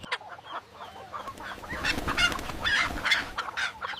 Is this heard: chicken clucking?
yes